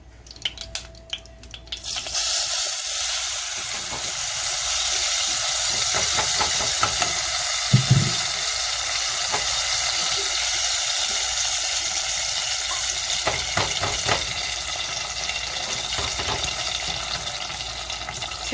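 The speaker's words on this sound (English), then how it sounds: "now we're going to strain the salsa" Green salsa for pozole verde is poured through a strainer, giving a steady, close liquid hiss and trickle that runs continuously after a brief start, with occasional splashes and faint clinks.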